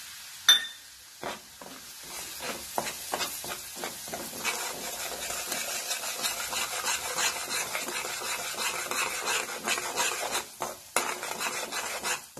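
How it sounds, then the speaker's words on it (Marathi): Semolina roasting in hot ghee over a low gas flame while being stirred, giving a steady soft scraping and rasping with faint sizzle, plus a few sharper utensil knocks near the start and end. "गॅस मंद आचेवर ठेवायचा आहे. मंद आचेवरच भाजायचं रवा."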